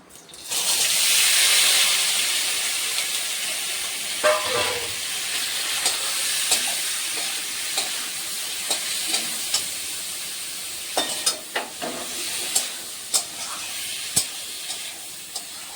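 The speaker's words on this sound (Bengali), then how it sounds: "মাছগুলো দিয়ে একটু নাড়াচাড়া করে নিচ্ছি।" Latta fish frying in a pan with black cumin (kalo jeera) while being stirred, giving a steady close sizzle with scattered sharp clicks and scrapes of the stirring utensil, no talk.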